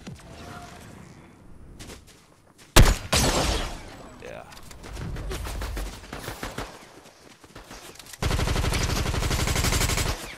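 Video game gunfire crackles in scattered shots, then bursts into a loud, sustained rapid automatic volley at the end, with an excited player talking over the earlier shots.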